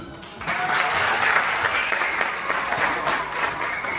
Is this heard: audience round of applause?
yes